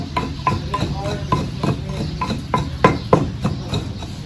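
Seafood being stirred and fried in a pan gives a steady sizzle broken by repeated scraping clacks of a utensil against the pan in a loose, regular rhythm, close and fairly loud.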